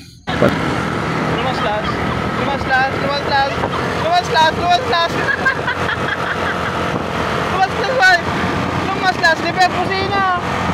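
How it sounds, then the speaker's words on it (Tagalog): Motorcycle riding along a rural road in Barangay San Rolipers, with a continuous engine drone and wind rush throughout and someone talking over it. "magmotor na tayo papuntang simbahan"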